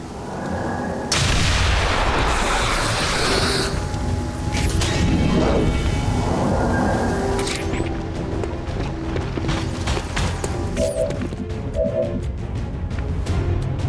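Claymore blast in the tactical strategy game XCOM 2, a sustained loud rumbling explosion with crackling debris that fades into scattered clicks and ambient effects.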